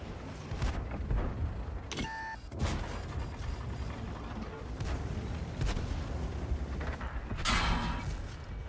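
Tank cannon fire booms in a tier 6 tank skirmish video game, several heavy shots spaced over a steady rumble of battle noise, with a short electronic beep in between.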